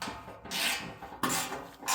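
A wrench rasps and ratchets on skid plate bolts underneath a third-generation Toyota Tacoma, short gritty bursts in quick succession, close and fairly quiet, with no talking.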